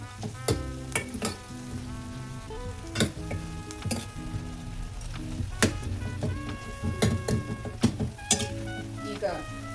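Onion and tomato fry in a pan for agase flower dal. A steady sizzle runs throughout, broken by frequent close clinks and scrapes as a spoon stirs against the pan.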